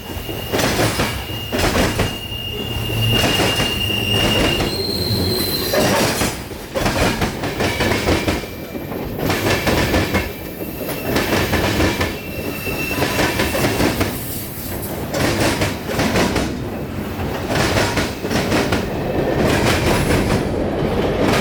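A long mixed freight train with Tropicana cars and auto racks rolls past, giving a steady loud rumble with rhythmic clickety-clack of wheels over rail joints and occasional high wheel squeals throughout.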